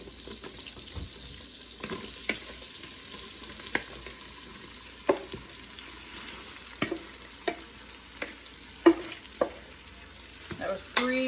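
Large Vidalia onions going into a pan for French onion soup, with a steady low sizzle and sharp stirring scrapes and clacks at irregular intervals, close up with no talking.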